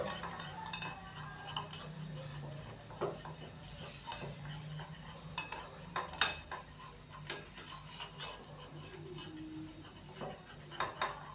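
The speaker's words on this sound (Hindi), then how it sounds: "चम्मच की मदद से इसके जो कोने हैं वैसे करके मैं दबा दूंगा" A spoon taps and presses around the edges of a spinach omelette in a pan, making soft, scattered clinks and scrapes at a low level with faint sizzling underneath.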